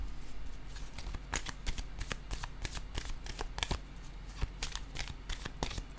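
Tarot cards shuffled by hand, a quick close riffle of soft snapping and flicking card sounds in irregular bursts throughout, with no talking.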